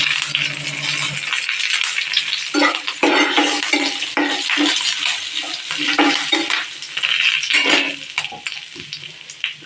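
Curry leaves and turmeric sizzling in hot oil while being stirred, a steady bright hiss with repeated scraping and clinks of a spoon against the pan, close and continuous.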